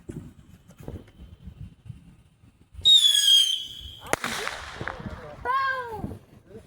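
Backyard fireworks launch with a rising whistle, then a sharp explosive bang followed by crackling bursts and a second whistling, crackling volley, loud and close, with people talking and shouting before and between the blasts.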